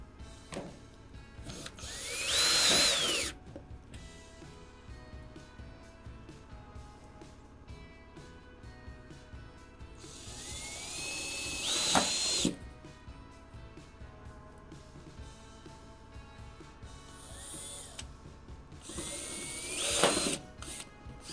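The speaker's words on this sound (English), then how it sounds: "Use your Phillips bit. These are self-tapping screws." A power drill with a Phillips bit drives self-tapping screws during residential air duct work, giving three short whirring bursts spaced several seconds apart, each rising in pitch, against a quiet room background.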